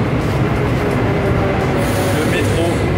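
A loud, steady rumble of a Paris Métro train running, with rushing noise throughout and a faint squeal near the end.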